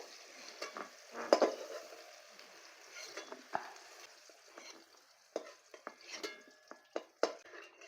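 Broad beans frying in oil in a wok, a faint sizzle under intermittent scraping and clinking of a spatula stirring them.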